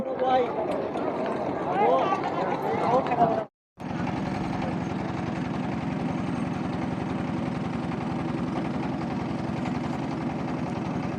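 A boat engine running on a lake trip, a steady low droning hum close by and continuous after a brief cut, with voices and some noisy activity over it at the start.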